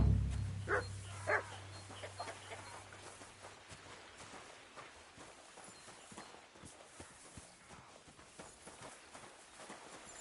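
A dog in the medieval game Kingdom Come Deliverance 2 gives a few short barks near the start, followed by a long stretch of hoof clops and footsteps moving along at moderate volume.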